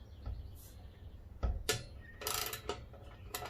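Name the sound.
socket wrench loosening the blade bolt on a DeWalt DW708 miter saw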